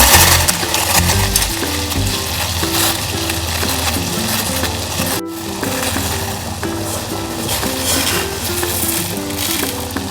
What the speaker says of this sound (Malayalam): അപ്പോൾ വെള്ളം നല്ല തിളച്ച് വന്നിട്ടുണ്ട്.